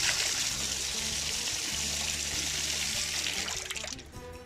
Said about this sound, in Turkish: Bu şekilde yaz kış akıyor bu çeşmemiz